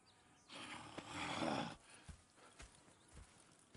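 Horses clip-clopping in the Red Dead Redemption 2 video game, a loud stretch of hoofbeats and movement early on followed by scattered, distinct single hoof thuds at moderate distance.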